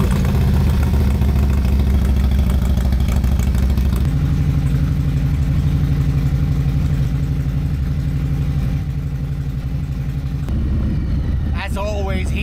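A motorcycle engine idles steadily and close by in near-40-degree weather before a ride to a custom cycle shop, a low even rumble running throughout, with a brief change in tone near the end.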